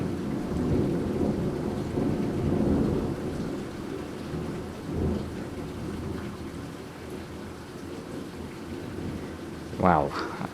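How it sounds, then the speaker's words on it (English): Heavy rain pours steadily during a severe thunderstorm, with deep rolling thunder rumbling under it and a sharper crack near the end, loud and close. "It's pretty much a direct hit from this thunderstorm too."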